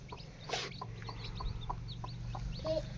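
A hen clucks beside newly hatched chicks, whose high peeps repeat steadily from close by, with one louder flurry near the start and a brief sharp peep toward the end.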